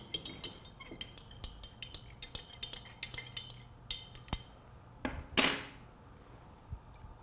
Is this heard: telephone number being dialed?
no